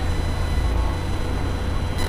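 Amtrak Silver Meteor passenger train by the tracks, a loud, steady low rail rumble with a continuous hiss above it, holding evenly throughout.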